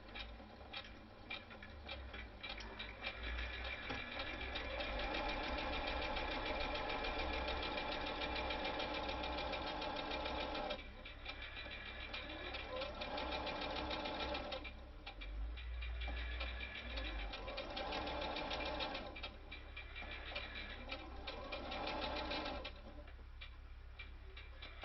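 Domestic sewing machine stitching the tab of a fabric tablet cover at just over a quarter-inch seam, a steady fast mechanical ticking run that pauses briefly around eleven and fifteen seconds before resuming, no talk.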